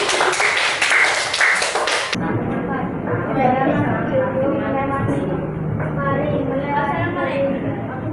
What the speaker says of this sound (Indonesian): Tepuk tangan untuk kelompok Faring